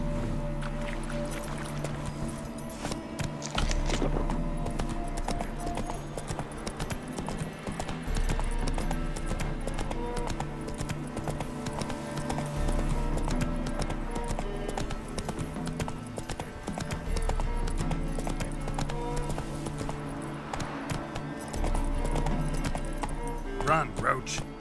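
Steady rhythmic hoofbeats of Geralt's horse Roach galloping in The Witcher 3: Blood and Wine, a continuous clip-clop under a dense bed of game music and ambience, with speech present throughout.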